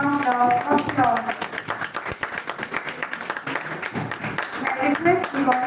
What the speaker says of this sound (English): Give a big round of applause to Group 7.